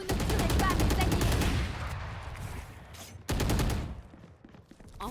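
Gunfire in Valorant: a fast burst of automatic shots up front that tails off, then a second short loud burst midway, with game effects and faint background sounds between.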